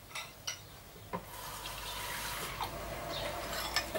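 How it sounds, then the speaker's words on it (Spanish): Water poured into a soy bolognese sauce, a soft trickling and splashing stream with a few faint clinks and drips, quiet and close, with no one speaking. "pues le voy a poner un poquito más de agua"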